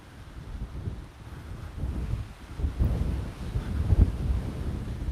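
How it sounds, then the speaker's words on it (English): Strong gusts buffet a microphone fitted with a windscreen outdoors, producing a low, rumbling roar that swells and surges unevenly throughout. "Wow, it is really windy, and I'm glad I've got this windscreen"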